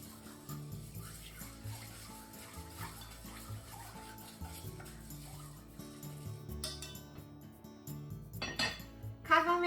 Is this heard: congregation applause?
no